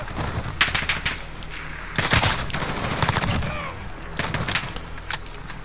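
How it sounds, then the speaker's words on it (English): Gunfire in Call of Duty: Modern Warfare, with fast bursts of automatic shots from the hip in clusters separated by brief lulls, moderately loud over steady game ambience. "Shooting from the hip, pre-firing around corners"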